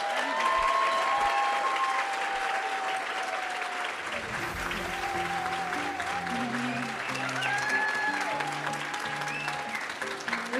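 An audience bursts into loud, sustained applause with crowd cheers and whoops at the close of a live show, clapping dense and steady throughout, with some voices and a few tonal sounds mixed in.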